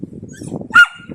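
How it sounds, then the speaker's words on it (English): A dog named Woody gives a single short sharp bark near the end, after a stretch of low whimpering or grumbling sounds, heard close inside a campervan. "What are you barking at?"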